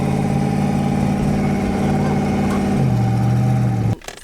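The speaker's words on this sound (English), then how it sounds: "Them turbos be loud, right?" A twin-turbo Ford Mustang engine runs loud and close with a steady droning hum whose pitch drops partway through, then cuts off abruptly near the end.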